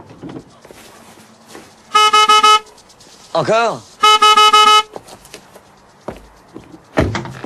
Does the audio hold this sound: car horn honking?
yes